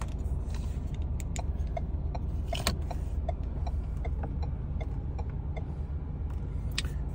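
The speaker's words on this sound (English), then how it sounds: "So here we have the turn signals." Turn signal relay in a 2024 Ford Wildtrak or Bronco fitted with hand-control electronics, a quiet regular ticking repeating steadily over a low cabin hum, with no talking.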